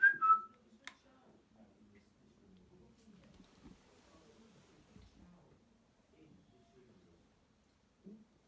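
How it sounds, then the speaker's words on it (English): A person whistles one short, bright falling note close by at the very start during an overnight investigation of a house at 30 East Drive, Pontefract. Quiet, scattered talk and faint knocks follow in the still room. "If I whistle, Joe, can you repeat my whistle?"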